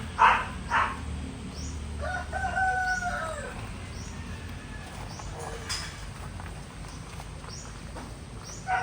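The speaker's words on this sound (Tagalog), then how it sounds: "Yan po yung mga alaga naming manok." Rhode Island and Brahma chickens cluck and a rooster crows in a yard in the Philippines, scattered calls near and farther off over a soft outdoor background.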